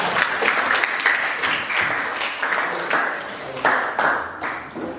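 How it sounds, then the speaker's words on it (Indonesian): Classroom audience applauding a student group's presentation at a school lesson, a steady burst of many hands clapping with uneven swells, fairly close and alone without talk. "tepuk tangan untuk kelompok mawar."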